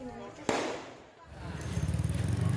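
Firecrackers during a street clash between residents in Johar Baru, Jakarta: one sharp bang followed by a rising, crackling roar of rapid pops, with talk mixed in.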